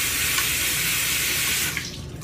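Water pouring from a sink faucet in a steady, close rush that cuts off sharply near the end, leaving a few drips and small clatters.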